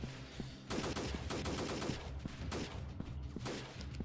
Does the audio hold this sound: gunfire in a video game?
yes